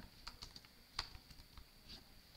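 Fingers tap at a computer keyboard in a quiet room, making a short run of soft, uneven keystrokes with one firmer press midway and no talk.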